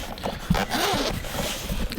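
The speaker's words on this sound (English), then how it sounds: "We got nice dual zippers here for an easy open." Dual zippers on a Devaso carrying case for a Meta Quest 3, with waterproof fabric outside, rasp open close by in one continuous, textured pull.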